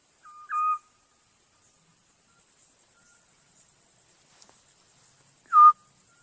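An owl in the Philippines calls twice at night, a short soft call near the start and another about five seconds later, over a steady high insect or cricket drone.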